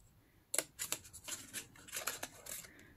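Scissors snipping through a paper piece for a vintage photo frame, a series of close crisp cuts in an uneven rhythm after a brief quiet start.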